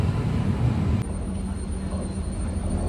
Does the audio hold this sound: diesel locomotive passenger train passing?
yes